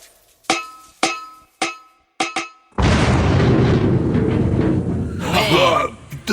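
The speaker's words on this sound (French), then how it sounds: "l'explosion de la grenade à photons lancée par Tartinus sur les gardes impériaux mutants" A photon grenade blows up in a sci-fi firefight with mutant imperial guards: a few sharp bangs of gunfire first, then a loud, sustained explosive roar and rumble that fills the rest, with a faint shout near the end.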